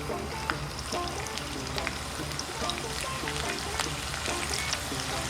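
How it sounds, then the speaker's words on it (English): Pieces of short rib beef tapa sizzle and crackle in hot oil in a frying pan, a dense, steady hiss with scattered pops throughout, close and fairly quiet, with no talking. "as long as you get this nice sizzle"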